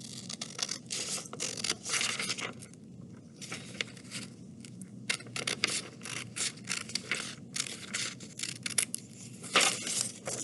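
Scissors cut through fabric for a ladybug bookmark, a close series of soft crisp snips and rasping slides in uneven bursts, with brief pauses between cuts.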